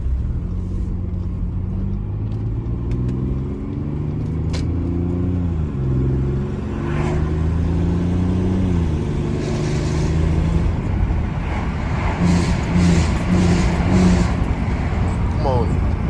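Car engine revving and accelerating from inside the cabin of a manual-transmission car, rising and falling pitch sweeps repeating through gear changes, loud and continuous with a steady road rumble beneath.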